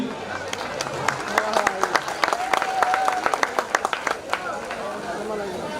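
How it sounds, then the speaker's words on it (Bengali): Audience applause at a secondary school's 125th anniversary ceremony: a burst of scattered, uneven claps rises and fades while a voice talks over it. "আমরা ওনার জন্য একটা হাততালি দেই।"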